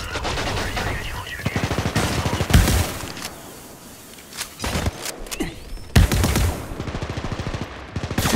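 Rapid automatic gunfire in the mobile shooter game High Energy Heroes, loud rattling bursts separated by short pauses, with a voice speaking between volleys.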